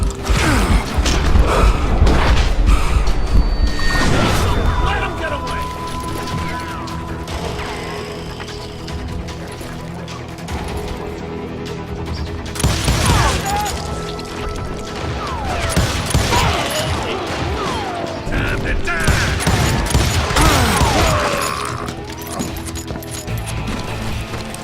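Gunfire in the Western shooter game Call of Juarez Gunslinger, with loud repeated shotgun blasts and clattering mechanical reload sounds mixed among other game effects, no speech.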